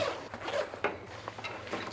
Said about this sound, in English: And when you have metal on metal like this, it's easier to be heard.